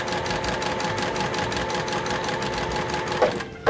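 A sewing machine stitching quilt blocks together, a fast steady mechanical whirr with a regular needle rhythm running close and loud, stopping abruptly near the end with a couple of clunks.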